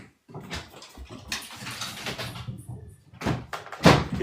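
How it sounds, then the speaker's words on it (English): Dogs run up indoor stairs, a scatter of irregular thumps and scrabbling paw impacts that come in bursts, some sharp and knocking like a door, growing louder near the end, with no talking. "Can you hear the dogs running up the stairs?"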